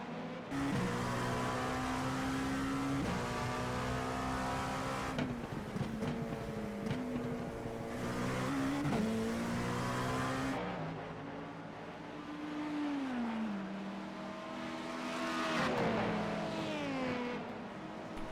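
In an IMSA racing video game, an LMP2 race car's engine drones steadily, rising and falling in pitch through gear changes. A faster hypercar draws alongside and passes, its engine also heard, with no voices.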